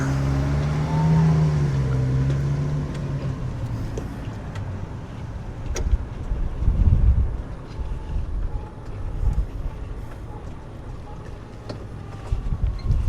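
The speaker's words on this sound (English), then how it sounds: "Watch out for this truck here." A truck passes on a residential street in The Villages, Florida, its low engine rumble swelling midway and fading, heard from a moving vehicle over steady road and wind noise.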